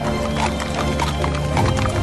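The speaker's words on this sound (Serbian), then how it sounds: "Brže ćemo stići ako prođemo pored konja. Konja i bikova." Horses whinny repeatedly over busy clip-clopping hooves on a ranch, with cattle nearby in a dense, loud, close-up mix of neighs and hoofbeats.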